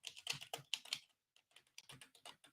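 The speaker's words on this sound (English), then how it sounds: "I'll just type it here." Typing on a computer keyboard in quick bursts of clicking keystrokes, a short pause mid-way, then more rapid taps, faint and close.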